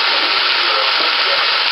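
Chicken and vegetables stir-frying in a hot pan, giving a loud, dense, unbroken sizzle with a few faint clanks of stirring and no voices.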